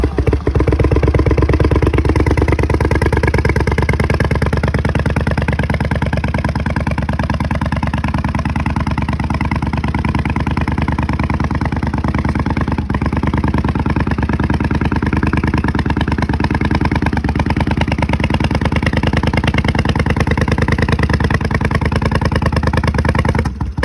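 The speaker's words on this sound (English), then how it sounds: "I'll start it up for you, and you just give it a hear and listen to the exhaust" A Honda CX500 custom cafe racer motorcycle engine idles after a cold start, loud and close, a steady rough rumble with a faint clattering texture that holds unchanged for the whole stretch.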